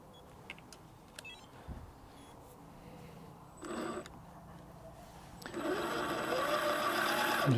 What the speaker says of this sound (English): I'll just show you the drivetrain working and then the steering.